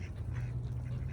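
A duck out in nature quacks repeatedly in short nasal calls at an even pace, fairly close, over a low background hum.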